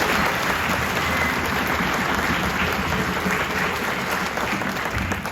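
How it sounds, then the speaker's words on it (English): Parents and guests at a fourth-grade strings concert give a steady round of applause, a thick, even wash of many hands clapping that holds at a constant level throughout. "we can give a little round of applause there"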